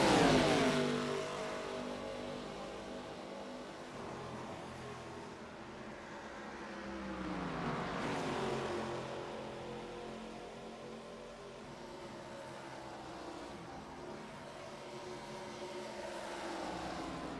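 ARCA Series stock cars race at Pocono, engines roaring past in a loud opening pass, then rising and falling again in several more fly-bys heard from a distance.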